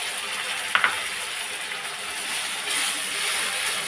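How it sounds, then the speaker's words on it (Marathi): Steady, close sizzling of tomato paste sautéing in a pan for pav bhaji, a continuous hiss with a brief clink near the start and a slightly louder surge later, with no voices. "टमाट्याची पेस्ट टाकून घ्यायची."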